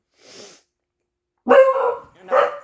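Dogs bark indoors: one faint bark, a pause, then two loud close barks in quick succession.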